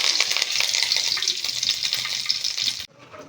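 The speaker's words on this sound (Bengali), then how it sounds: "কড়ায় সর্ষের তেল গরম করে নিয়েছি, এবারে দেব 2টো শুকনো লঙ্কা, গোটা জিরে, আর দেব কারি পাতা।" Dried red chillies, whole cumin and curry leaves sizzle hard in hot mustard oil in a kadai, a loud, steady, close hiss that cuts off abruptly near the end.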